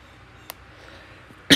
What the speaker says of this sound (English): I'm developing a cough from somewhere.